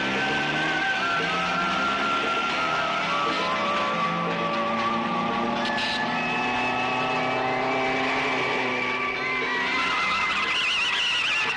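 Tires squeal and a car skids at length in a scene from the 1993 Hindi film Khilona Bana Khalnayak (Zapatlela), loud and continuous, with wavering high-pitched screeches over engine noise throughout.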